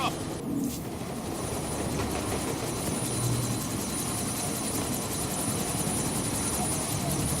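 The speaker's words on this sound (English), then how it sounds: "That chopper's about to take off!" Helicopter in the video game Deus Ex: Mankind Divided, its rotor and engine drone running steady and loud throughout, a thick continuous roar with no pauses.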